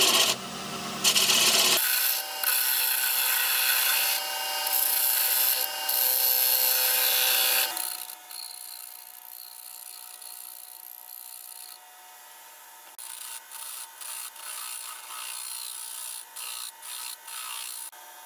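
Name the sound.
spindle gouge cutting wood on a lathe, turning a butter dish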